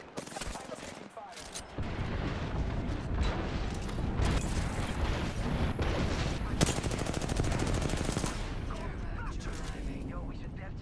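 Dense, continuous automatic gunfire from the video game Apex Legends, loud and rapid with bursts layered over one another throughout, and a brief dip near the start.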